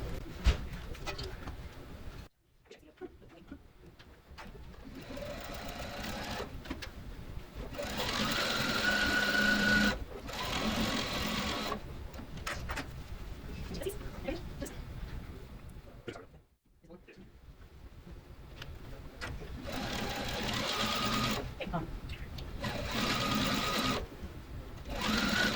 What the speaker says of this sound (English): we're going to sew this together now